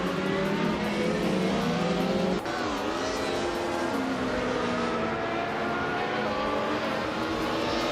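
A 1996 Alfa Romeo 155Ti race car engine drones at high revs with a strong harmonic whine, briefly dipping in pitch as it shifts, then climbing again, loud and sustained with no talking.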